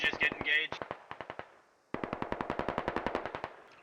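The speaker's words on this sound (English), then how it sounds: "Looks like AR fire from distance." Distant AR rifle fire in the military shooter Squad, a long string of rapid, evenly spaced shots that pauses briefly and then resumes as another steady burst, with a voice talking over the opening.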